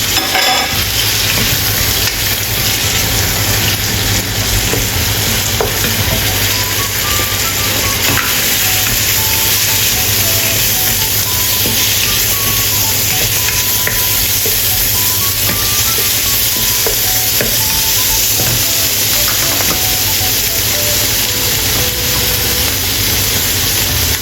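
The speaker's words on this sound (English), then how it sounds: "Add shrimp and stir-fry until fragrant." Shrimp stir-frying with chopped garlic in a hot wok, a steady loud sizzle with the scrape of stirring running throughout, no voices.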